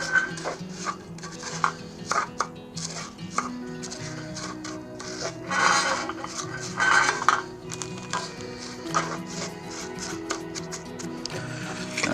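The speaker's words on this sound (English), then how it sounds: "add the 2 cups of crushed up Ritz crackers with the butter. And mix it together real good." Crushed Ritz crackers and butter being stirred into a hashbrown casserole for a Dutch oven, with scraping and clinking of a utensil against the pot, rhythmic and close, while a person talks intermittently.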